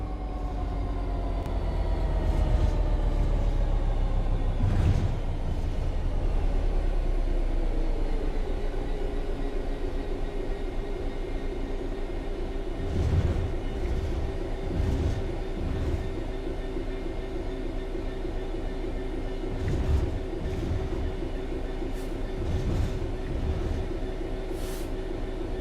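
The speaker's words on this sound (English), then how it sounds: "The train will then coast on level ground, and the train will only slow down very gradually." Train coasting on level track in the Train Sim World 3 game: a steady rolling rumble with whining motor tones that glide downward and then hold level, broken by periodic rhythmic clunks of wheels over rail joints, with no talk.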